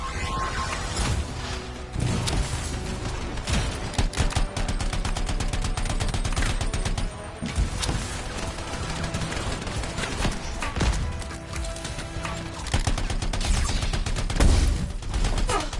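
Sustained automatic gunfire in the video game Anthem during an assault on an enemy camp's defensive turrets, dense rapid bursts with heavy thumps and crashes running nearly nonstop, loud throughout.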